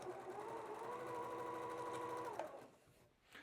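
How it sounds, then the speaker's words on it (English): A sewing machine stitches fabric along an edge guide and chalk line while piecing a quilt block, a steady close whir that stops abruptly, followed by faint handling noises. "And now I'm going to go ahead and sew using that same concept there, right along that edge guide"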